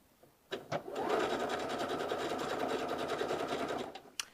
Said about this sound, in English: So for this demo, I'm just going to sew it, but feel free to mark that 5/8 seam allowance.